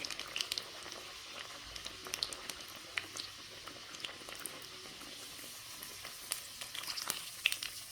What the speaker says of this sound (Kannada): ಇದನ್ನು ಇವಾಗ ಫ್ರೈ ಮಾಡ್ಕೊಳ್ಳೋಣ